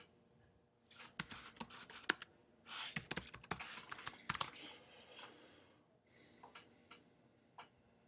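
Quiet bursts of typing on a computer keyboard, irregular clusters of clicks with pauses between them, close and alone without talk.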